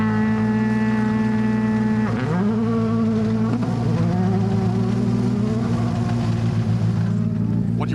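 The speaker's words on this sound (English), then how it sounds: "Skoda about to set off." Skoda rally car at a gravel stage start of the Rally of Canberra, its engine holding a loud steady drone and then revving and rising in pitch as it launches off the line, close and continuous.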